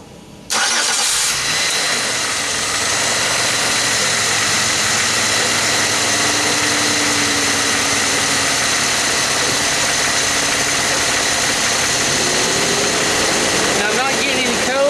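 A Pontiac Grand Am's 3.4 engine runs steadily right after starting, a loud, continuous close-up hum with a constant idle drone and no talk over it.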